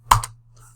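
A single quick burst of computer keyboard typing, two or three close, crisp key clicks in rapid succession followed by a faint trailing tap, near and isolated with no talk.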